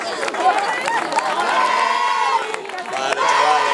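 A lively crowd of children and adults cheering and shouting for young rowers at a boat race in Bueu, Galicia. Excited voices and whoops rise and fall in a busy, close hubbub.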